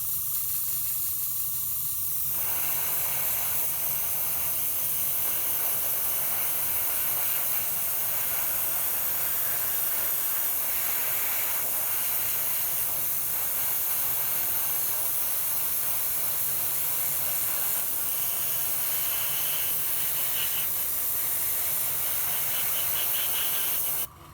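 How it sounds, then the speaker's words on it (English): Aerosol spray paint hisses steadily onto a Primaris Space Wolf miniature, a close continuous spray that runs for about twenty seconds with only slight swells in intensity, starting after a brief quiet moment and cutting off at the end. "So I'm going to go ahead and start spraying that on this guy now, starting on the main body of the model"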